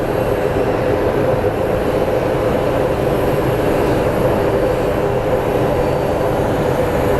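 A continuous, dense jet roar from a regional CRJ at Phoenix Sky Harbor airport holds at an even level, loud and close, with no break.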